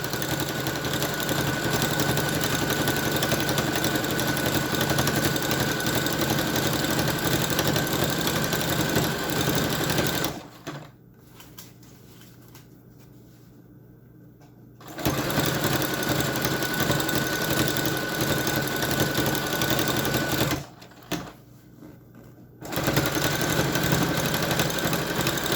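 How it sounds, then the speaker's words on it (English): A serger stitches the top hem and bias tape onto a reusable grocery bag, giving a loud, steady motor whir that stops abruptly for a few seconds twice, then starts again. "now that we're stitching our top hem"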